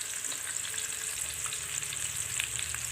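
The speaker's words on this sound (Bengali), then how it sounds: "আর এই যে এখন পেঁয়াজ দিলাম" Chopped onion fries in ordinary cooking oil, a constant bright crackling sizzle with light scraping, close and fairly quiet, with no voices.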